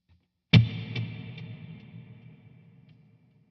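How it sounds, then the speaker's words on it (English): A single guitar chord struck once through a long hall reverb with an extended delay, its clean, ambient tail ringing out and fading slowly over a few seconds, with faint repeats. "it's a longer hall reverb with a longer delay as well"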